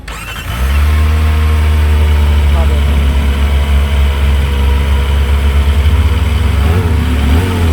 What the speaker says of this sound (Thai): เดี๋ยวพี่เขาจะมาเบิ้ลให้เราฟังนอกร้านนะผม